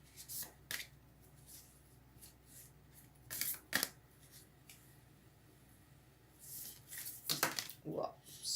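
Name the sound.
oracle deck cards shuffling and dropping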